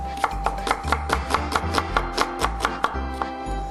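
Steady knife chopping of half an onion on a board in a hotel restaurant kitchen, a quick run of sharp taps at an even rhythm, close and clear with no talk.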